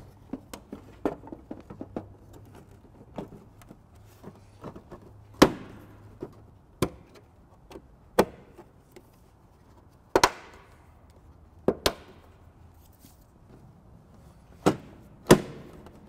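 Taillights are refitted on a 2016 Dodge Journey: sharp, isolated clicks and knocks of plastic housings seating and fasteners snapping in, spaced a second or more apart, close and fairly quiet with no talking.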